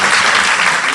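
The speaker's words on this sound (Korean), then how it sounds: "박수 한번 주시고요." A large crowd at a citizens' gathering applauds in a loud, dense burst of clapping that fills the whole brief moment.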